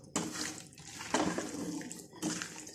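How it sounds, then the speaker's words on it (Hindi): About half a jug of water is poured into a pot of spiced white chana daal for Lahori cholay, splashing and gurgling close by in three steady pours with brief pauses. "इसमें तकरीबन आधा सा जग में इसमें पानी डाल के"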